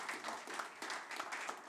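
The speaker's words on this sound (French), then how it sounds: "On peut les applaudir, merci." Audience applause at a live stage event in Lille, a steady wash of many hands clapping with no talk over it.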